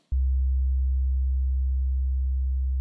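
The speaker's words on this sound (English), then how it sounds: "So I added a sine wave down here." A deep sine-wave sub bass tone added beneath a piano in music production starts abruptly and holds steady and loud, a smooth low hum with no other sounds.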